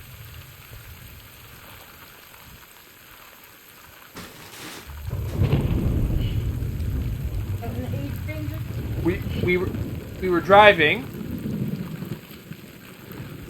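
Thunderstorm and heavy rain in the Death Stranding video game, a sudden broad rumble that swells in and keeps roaring steadily, with a louder crack near the end, while a voice talks over it.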